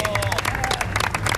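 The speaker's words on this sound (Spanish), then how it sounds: "aplauso para ustedes." Studio audience applause on a television dating game show, a short, dense burst of clapping with some cheering, close and loud throughout.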